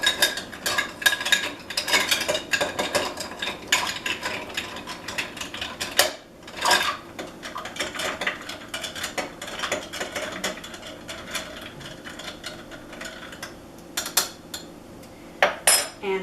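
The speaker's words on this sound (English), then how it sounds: "half an ounce of simple syrup, and then we're going to stir it up" Bar spoon stirring a cocktail with simple syrup, a steady run of rapid close metallic clinks and ice rattling against the glass, continuing throughout with a brief pause midway.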